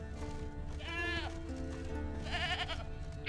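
A goat in The Witcher 3 bleats twice, with a quavering bleat around the middle and another later, over steady game ambience and background music. The bleats sound fairly close.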